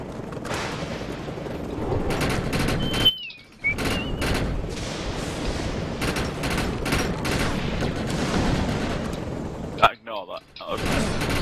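Rapid bursts of gunfire from a co-op session of the video game Defiance, mixed with other combat noise. It runs almost continuously, with a couple of short silent gaps. Players talk over it now and then.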